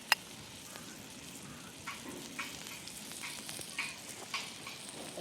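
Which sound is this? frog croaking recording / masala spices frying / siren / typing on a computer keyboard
masala spices frying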